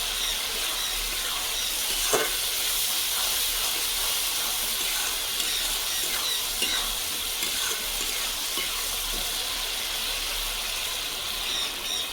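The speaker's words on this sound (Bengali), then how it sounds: "আমি সব কিছু মশলা কষা হয়ে গেছে জল দিয়ে দেবো" Water goes into a pan of fried masala for a home-style soybean manchurian, and a steady loud hiss of sizzling follows. A spoon scrapes and stirs now and then, with no talking.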